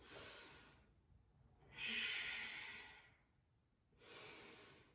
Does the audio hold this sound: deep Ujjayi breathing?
yes